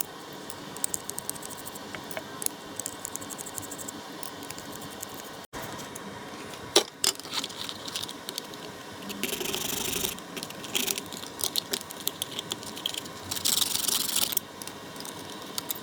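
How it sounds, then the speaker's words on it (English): A plastic case is cut down with a tool, giving close scraping, rattling and rasping bursts with clicks and a few sharp knocks, broken by short pauses. "Cut the plastic case down on the top and the bottom"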